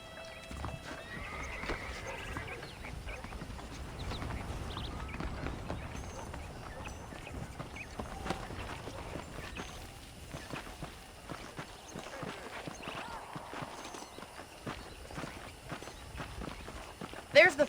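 Horse hooves clip-clop at a steady riding pace in the Red Dead Redemption video game, a rhythmic thudding beneath ongoing character dialogue.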